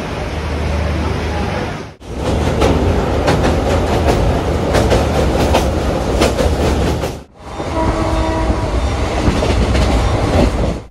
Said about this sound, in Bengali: ট্রেন কিন্তু একটুও লেট করেনি, এক্স্যাক্ট 12:55 আমরা রওনা দিয়ে দিলাম রামপুরহাটের উদ্দেশ্যে।